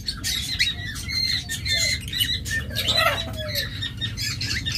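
A pet lovebird pair squawks inside a nest box, sharp shrill calls and chatter repeating rapidly close by, with a brief flutter of wings.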